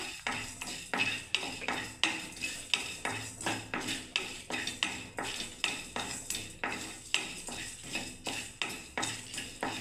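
Cumin, coriander and dried chillies dry-roasting in a clay pan over a low gas flame, with close, steady rhythmic scraping strokes roughly twice a second and no voices.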